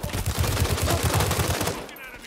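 A Pecheneg light machine gun fires long, rapid bursts in the game World War 3, loud, close and evenly pulsed, then cuts off abruptly near the end.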